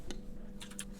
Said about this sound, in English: I'm typing on my Word document.